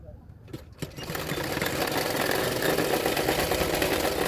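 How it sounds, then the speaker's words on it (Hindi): Sewing machine stitching the shoulder seam of a blouse, starting after a brief pause and then running in a fast, steady, close mechanical whir to the end, with someone talking faintly beneath it. "इसी तरह से शोल्डर सिलाई कर रही हूँ।"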